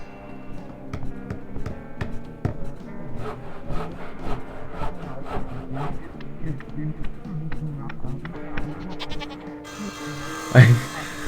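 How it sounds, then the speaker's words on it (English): A goat bleats in the video game Sally Face, several wavering cries over game music and scraping sounds, ending with a louder thump near the close. "I heard a goat."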